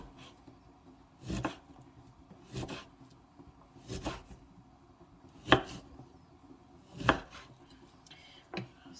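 A knife chopping through lemons on a cutting board, six sharp, separate knocks spaced a second or two apart, close and clear over a quiet background.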